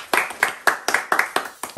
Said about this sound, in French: Et j'aimerais un tonnerre d'applaudissements pour le cadeau.